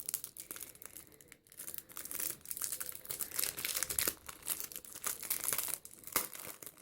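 Plastic packaging around a kawaii key cap being opened, steady close crinkling and crumpling with some tearing, continuous and fairly loud, no talking.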